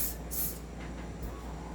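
Oil sprays into the valve of an airsoft Glock 17 pistol in short hissing bursts, two strong puffs followed by a fainter one, close up with no talking.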